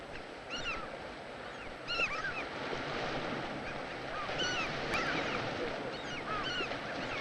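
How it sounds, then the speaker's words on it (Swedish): Strong wind over rough open water, steady gusting noise and surf rolling without a break, with faint bird calls now and then in the background. "En aning för mycket vind, en smula för hög sjö."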